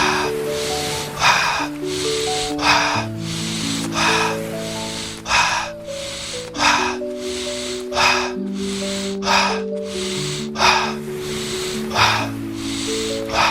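Rapid double-rhythm breathing exercise: a steady run of about a dozen sharp breath bursts through the nose, evenly spaced, close and forceful, over soft sustained background music.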